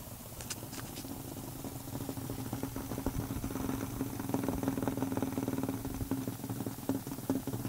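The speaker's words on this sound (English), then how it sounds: "converts kinetic energy stored in the flywheel into noise by wobbling the magnet" A magnetic flywheel with a short, balanced oscillating magnet wobbles as it spins, giving a soft, steady mechanical purr with faint rattling ticks, alone and fairly quiet.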